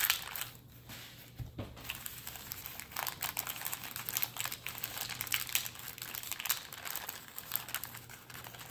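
A small plastic bag of ribbons being opened by hand, close crinkling and crumpling rustles in irregular bursts that continue throughout, with no talking.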